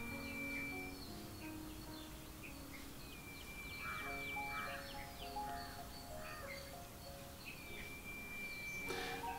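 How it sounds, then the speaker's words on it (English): Birds call around an organic orchard farm, with scattered chirps, whistled tones and a few caws, fairly distant and soft against a faint outdoor background hum, no one talking. "But you can hear"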